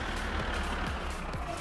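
A tractor engine idles and rumbles in the driving game My Summer Car, a continuous low mechanical drone with faint beeping, heard close.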